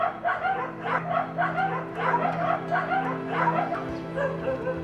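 Caged dogs on a South Korean dog meat farm bark and whimper, producing a rhythmic series of yips and whines that repeats steadily, close by, over a low steady hum.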